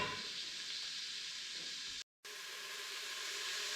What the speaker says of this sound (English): We're going to let the onions saute up here for just a minute